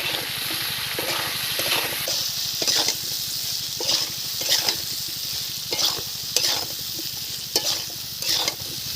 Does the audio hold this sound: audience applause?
no